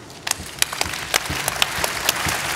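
Audience clapping in a hall at an academic year opening event, sparse and uneven hand claps across the clip at moderate loudness, with no talk.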